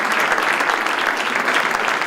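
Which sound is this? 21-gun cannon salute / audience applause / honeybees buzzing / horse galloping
audience applause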